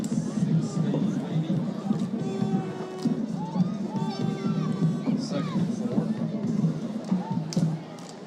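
Full home and away stands at a homecoming high school football game roar with a steady, dense crowd murmur, scattered shouts and cheers rising over the babble, with whistles and a few distinct voices near the field.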